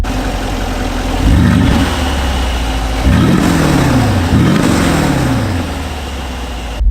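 A Brabus G-Wagon G700 engine fires up and revs in several sharp rising-and-falling bursts over a deep steady idle, loud and close from inside the cabin.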